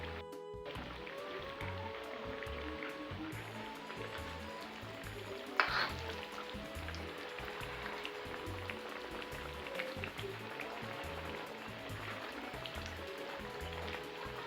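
Mandazi dough pieces sizzle steadily in hot oil as they are turned, a continuous crackling bubbling with a brief sharper splash partway through, close and moderately loud.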